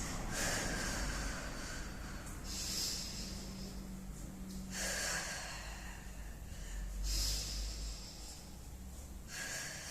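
Slow, deep breaths during a Pilates exercise repeat in long airy waves, each inhale and exhale lasting a couple of seconds, close and fairly soft with no talking.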